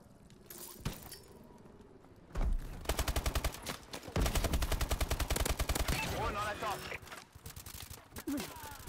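Gunfire and explosions from the video game Advanced Warfare: a quiet start with a lone crack, then loud rapid bursts of automatic fire and blasts packed close together from the middle onward, with a faint voice underneath.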